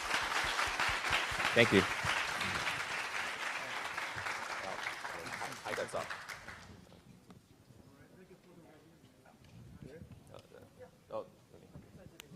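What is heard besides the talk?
audience applause for speakers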